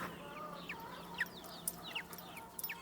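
Guarded farm chickens cluck in soft, scattered bursts over a steady outdoor background, faint and somewhat distant, with no talk.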